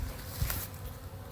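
Honeybees hum faintly at an old hive being opened, in a brief, dense buzz with a soft thump partway through.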